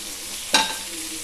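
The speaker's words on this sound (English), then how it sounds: "Cover the fish with a lid and fry it until it gets into a golden brown color" Fish fries in a pan under a lid, giving a constant soft sizzle with one sharp crackling flare near the middle that fades back into the hiss.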